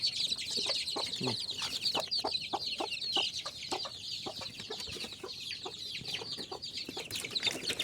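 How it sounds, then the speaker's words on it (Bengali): Constant high-pitched cheeping from a crowd of poultry chicks, dense and overlapping, with occasional short clucks mixed in. "এই যে পোলট্রি মুরগির বাচ্চাগুলো দেখেন"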